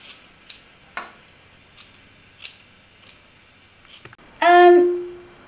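Dull scissors snipping through a Barbie doll's hair on a buttercream doll cake, a few sparse crisp clicks followed by a longer rasping cut near the end, with no talking.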